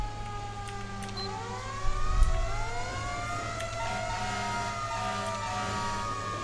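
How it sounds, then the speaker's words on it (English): A GTA 5 fire engine siren wails in sweeping, overlapping rising and falling tones over a steady engine rumble, with a short low burst near the middle and no voices. "I like the horn too, the horn's very good."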